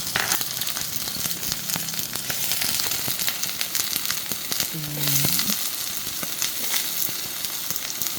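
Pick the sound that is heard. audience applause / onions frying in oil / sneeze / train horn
onions frying in oil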